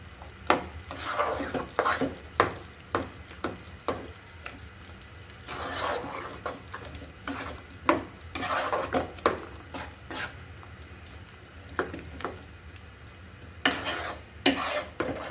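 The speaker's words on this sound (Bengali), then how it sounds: "ঘির সাথে কিন্তু ভালো করে আমি বুটের ডালটা মিশিয়ে দিচ্ছি।" Chana dal is stirred in hot ghee in a pan, a soft steady sizzle broken by repeated spoon scrapes and clinks against the metal, quiet and close with no talking.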